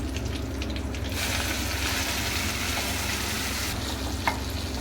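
Ground masala paste with curry leaves fries in a pan for chilli chicken, a dense continuous sizzle with scraping stirring strokes that grows louder midway, close and steady with no voices.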